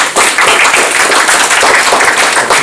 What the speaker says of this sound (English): welcome Deepak with a round of applause